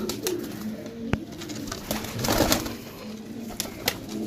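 Indian badamsiri pigeons coo in low, throaty, repeated calls, close by, mixed with a few sharp clicks and rustles of birds moving, with no talk.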